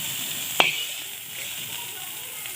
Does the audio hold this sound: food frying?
yes